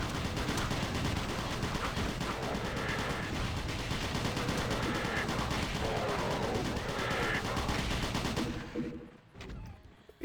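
Rapid bursts of automatic turret fire in the video game Doom 2, loud and dense, hammering continuously for about eight seconds before cutting off abruptly into quieter game sounds.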